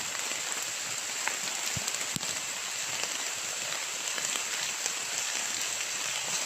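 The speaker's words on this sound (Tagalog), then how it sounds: "kahit malakas man yung ulan" Steady, dense rain pours down continuously, a broad hiss of drops with occasional louder spatters and no voices.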